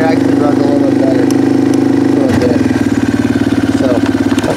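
A 1988 Yamaha Moto 4 ATV engine idles loudly and close with the choke pulled up, a steady pulsing drone that shifts to a rougher, choppier beat partway through.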